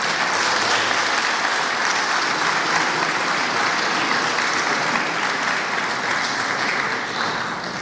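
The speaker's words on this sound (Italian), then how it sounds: "anzi facciamo un applauso." An audience at the inauguration of a bank's new headquarters breaks into loud, sustained applause, thick and continuous clapping from many hands filling the room with no voices on top.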